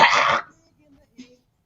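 A single raspy throat-clearing cough bursts out close and loud for under half a second, followed by near silence with a faint small sound.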